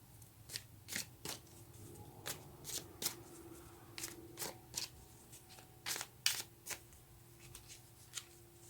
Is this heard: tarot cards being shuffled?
yes